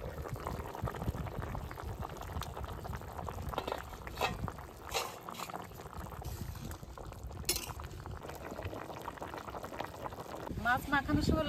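A pot of river-caught rita fish curry with potato, tomato and ground cumin simmers with a steady bubbling hiss, with occasional clinks of utensils and a voice in the background.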